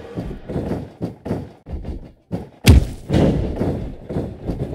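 A loud body-slam thud from the WWE 2K17 wrestling game, Seth Rollins vs Randy Orton, lands sharply midway, followed by a sustained roar of arena crowd noise and smaller impacts throughout.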